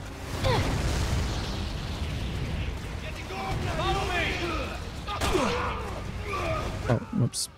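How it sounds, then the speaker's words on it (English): Rapid bursts and booms of explosions in Resident Evil 6 crowd together continuously as a house breaks apart, with bright whooshing sweeps and crackling pops layered over a low rumble. "Explosions everywhere."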